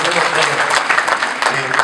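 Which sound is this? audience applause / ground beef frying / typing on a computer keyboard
audience applause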